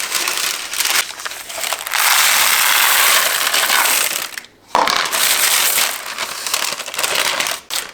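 Ceramic baking beans rattle and crunch as a parchment-lined tart tin is shaken, a loud, dense, continuous rustling with a short pause midway and no talking.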